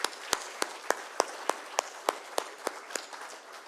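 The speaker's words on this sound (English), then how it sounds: "I would request all of you to join me in offering a very big round of applause to Dr." Sparse, evenly spaced claps ring out in a steady rhythm for a memorial lecture speaker at an Indian engineering congress in Chennai, sounding like a few hands rather than a full crowd, fairly faint, with no talk over them.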